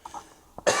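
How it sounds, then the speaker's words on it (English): A sharp cough bursts out near the end, loud and close, after a quieter throat sound and some faint murmuring; a single person coughing indoors while talking about being unwell. "I might cough here and there because I got a little something going on"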